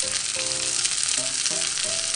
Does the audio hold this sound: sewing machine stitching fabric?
no